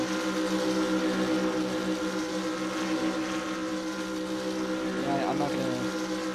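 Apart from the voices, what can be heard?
race car engine revving while stuck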